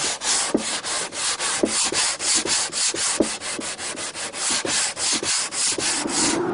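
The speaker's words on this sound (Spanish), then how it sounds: "vamos a proceder a darle una pequeña lijadita a todo el contorno para que tenga un buen terminado" Hand sanding along the wooden edges of a small carpentry case, a steady rhythmic rasp of strokes repeating roughly every half second, close and fairly loud with no talking.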